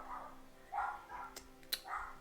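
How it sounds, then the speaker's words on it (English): A dog barks in three separate bursts with short gaps between them, moderately close, alongside a couple of sharp clicks. "the dog's angry at the world for some reason"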